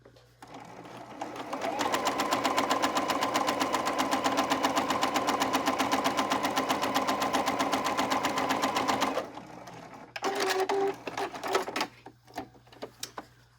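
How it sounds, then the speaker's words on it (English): A sewing machine stitches a fabric border around cross stitch and back stitches at the end. It runs in one steady, fast run of about seven seconds, then gives short stop-start bursts and clicks, close and clear. "You do a little back stitch."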